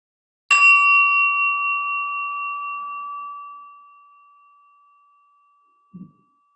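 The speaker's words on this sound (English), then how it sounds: "I'm going to ring, as usual, a small bell to replicate the sound of Om" A single clear strike of a small bell rings out in silence at the start of a guided meditation, its pure tone slowly fading over several seconds, followed by a faint soft knock.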